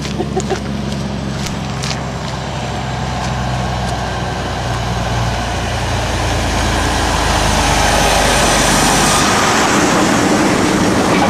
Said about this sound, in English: Logging truck.